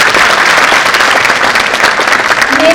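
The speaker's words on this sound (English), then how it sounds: "Parents, please give a huge round of applause for them." A school annual day audience applauds a performance with dense, steady clapping that fills the hall at a constant loud level, with a faint tone near the end.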